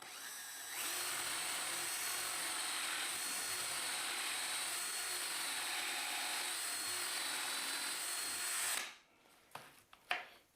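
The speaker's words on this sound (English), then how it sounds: "And then we just drill a hole." A power drill whines steadily for about eight seconds as it bores through wood for a vanity cabinet drawer, then stops, followed by a few light knocks and rustles.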